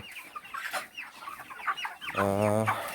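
Chickens in a poultry farm in Assam, housed by the thousands, cluck and squawk in scattered short calls close by, ending with a longer drawn-out cackle.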